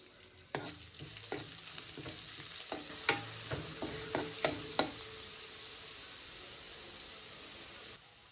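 Onion and green chilli go into hot oil in a pan with curry leaves, making a hissing sizzle punctuated by a burst of sharp clacking stirs, then a steady fainter fry.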